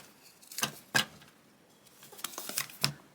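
A deck of tarot cards is shuffled by hand in a few soft, papery riffling bursts with short pauses between them, close and fairly quiet.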